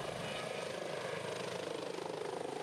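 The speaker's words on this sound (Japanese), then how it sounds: "300リットルほどを入れてヘリで吊り上げます" A firefighting helicopter hovers while lifting a water bucket on a sling during a fire drill, its rotor producing a dense continuous throbbing roar at moderate distance.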